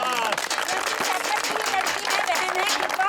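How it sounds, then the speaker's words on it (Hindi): Loud, dense audience applause at a farmers' protest gathering, a continuous burst of close clapping from many hands that stays strong throughout, with a few voices faintly mixed in. "खड़े होकर इनके लिए जोरदार तालियां प्लीज"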